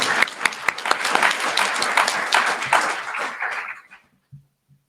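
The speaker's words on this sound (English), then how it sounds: "let's have a round of applause for our sponsors right here." A hackathon opening ceremony crowd applauds its sponsors with distinct, fairly close hand claps that thin out and fade to silence, with a few last stray claps at the end.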